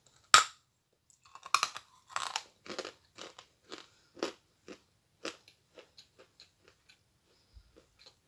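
A large, very hard piece of chalk is bitten and chewed up close. One loud snapping bite is followed by a run of dry, crisp crunches that grow fainter and farther apart, with no other sounds.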